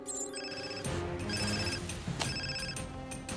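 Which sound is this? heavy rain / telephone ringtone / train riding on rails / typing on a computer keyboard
telephone ringtone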